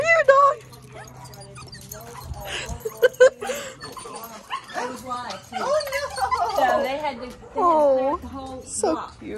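A dog whines and yips in high, wavering cries, close by, mixed with short barks and people talking over it.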